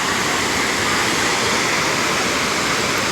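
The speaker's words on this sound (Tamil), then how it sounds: "அதான் ஃபால்ஸ்." Manimuthar Falls, by a dam, roars as a loud, dense, unbroken rush of falling water close by, with no voices over it.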